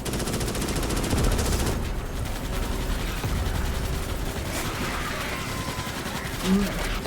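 Rapid automatic gunfire rattles continuously in the sci-fi shooter Starship Troopers: Extermination, dense and steady throughout with mechanical clatter, easing slightly partway through before carrying on.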